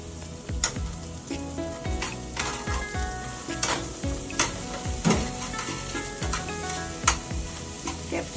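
Onions, white and spring onion, stir-fried over a high flame for manchow soup, with steady loud sizzling and repeated scraping stirs of a spatula in the pan, close and continuous with no talk.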